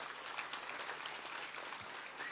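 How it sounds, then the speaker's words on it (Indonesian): An audience at Masjid Jogokariyan mosque applauding during an evening religious talk: a faint, even patter of many hands clapping together, distant and low in level throughout. "Tepuk tangan dulu untuk wong apik."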